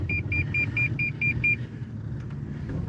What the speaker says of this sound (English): I'm not even sure why it was beeping